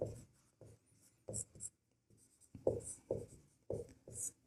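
Pen writing a maths solution on paper for a class 10 circle-area problem: close, quiet scratchy strokes in short bursts, roughly a dozen quick marks separated by brief pauses, with no talking.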